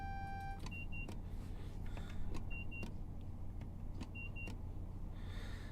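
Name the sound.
train cab warning beep in Train Sim World 6 video game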